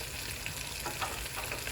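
Steady, crackling sizzle of hammour (spotted grouper) frying in hot oil in a pan, close and continuous with small popping bursts.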